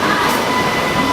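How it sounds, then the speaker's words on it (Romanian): A Vienna metro train pulls out of the station, a loud close rumble with a thin sustained whine riding over it, continuous and steady. "Metroul a plecat din stație"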